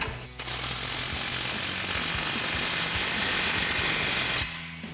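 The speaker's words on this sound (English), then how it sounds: "then we'll go back and start fully tightening all of our clamps and everything down" An impact wrench or ratchet gun tightens exhaust clamps on a Chevrolet Silverado 2500 Flowmaster American Thunder dual exhaust, one loud, continuous rattling hammer burst of about four seconds, close up, with no talking.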